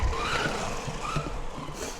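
Vintage AYK Cyclone RS 401 RC car driving, a short whining electric motor pitch that rises and falls twice over constant buzzing and scuffing noise.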